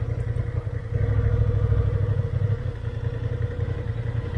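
A Honda Hornet motorcycle engine runs at a steady idle nearby, a low, even rumble that swells slightly after the first second and then holds, with no talk.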